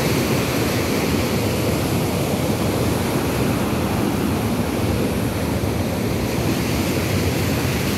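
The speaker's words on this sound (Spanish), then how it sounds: "Vamos a bajar a la tía un poquito para que vean esta gran cascada que se genera." Large waterfall pouring over the Loreto dam in San Marcos, a loud, dense, unbroken roar of rushing water heard close by and steady throughout, with no voices.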